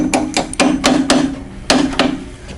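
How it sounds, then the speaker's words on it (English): Sharp metallic taps from a hammer on a stuck metal pin of a Jazzy 614 HD power chair seat, about eight light strikes in an uneven rhythm, close and clear with brief pauses between. "You might have to lightly tap one with a hammer."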